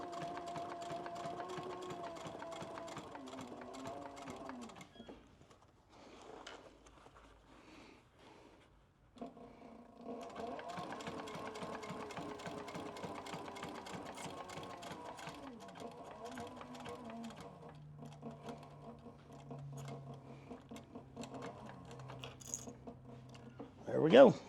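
Sewing machine stitching a leather duffel bag body, running in steady bursts with short pauses while the work is repositioned, close and clear, ending with a few back stitches.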